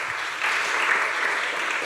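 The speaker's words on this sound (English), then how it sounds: "Can we get another big round of applause for all of our finalists?" A conference audience at a bitcoin++ event applauds the contest finalists with dense, steady clapping that holds evenly for about two seconds, with no voices over it.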